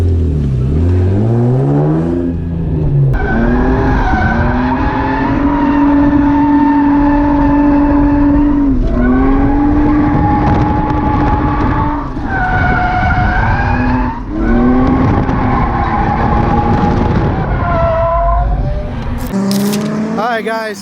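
BMW E36 drifting on track, its engine holding a high sustained rev while the tires squeal and skid loudly in long sweeping slides, with brief throttle dips between, recorded from inside the car.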